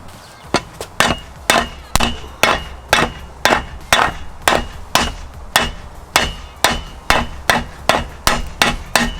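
A hammer repeatedly strikes a metal Molle panel to flatten it for a Land Cruiser 100 Series, giving about twenty loud, sharp, ringing blows in a fairly even rhythm, close to the listener.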